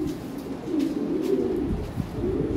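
Toy Lahori pigeons from a breeding pair coo in a steady low murmur, close and continuous, with overlapping throaty rolls throughout and no talking.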